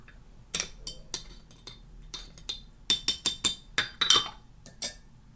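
A spoon clinks repeatedly against the sides of a cup while green tea is stirred, giving about a dozen sharp, close taps in an uneven rhythm with nobody talking.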